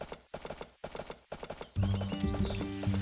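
Horse sounds in the farming video game Story of Seasons: A Wonderful Life, steady rhythmic hoof clip-clops in groups, then a loud neigh with game music underneath, clear and close.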